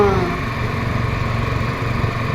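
A motor boat engine on the Krishna river drones close and loud with a steady, throbbing hum. Its pitch shifts at the start, then it holds an even, vibrating running note.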